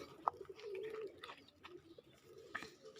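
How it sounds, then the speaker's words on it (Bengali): Pigeons feeding give soft, low, gurgling coos, faint and close, with a couple of small sharp ticks in the quiet background. "এখানে যে খাবারগুলা খাচ্ছে কবুতরগুলা দেখা যাচ্ছে"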